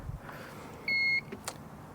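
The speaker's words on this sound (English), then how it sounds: "Motor clicked on. Hopefully you could hear that beep." A short electronic power-on beep from an ePropulsion Spirit 1.0 electric outboard motor, a single steady tone lasting about a third of a second, clear against quiet background noise.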